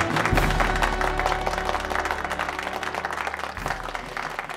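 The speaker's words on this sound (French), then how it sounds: "Applaudissez pour elle." An audience at a Miss DR Congo beauty pageant applauds a contestant, sustained crowd clapping layered over a loud low musical drone and backing music.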